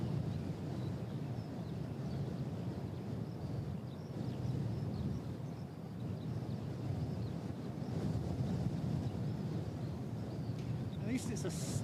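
Steady wind blows outdoors near an airport during a severe wind warning, a constant low rushing noise at moderate level with no strong gusts, while light rain may be faintly present underneath.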